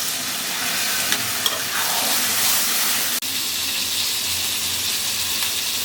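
Water poured into a frying potato and pointed gourd curry hisses and sizzles steadily and loudly throughout, with a brief clatter near the middle and no talking.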